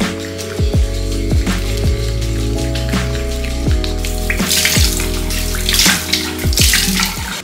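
Tap water runs steadily into a sink while a face is washed, with splashing bursts and scattered drips close by, alone without talk.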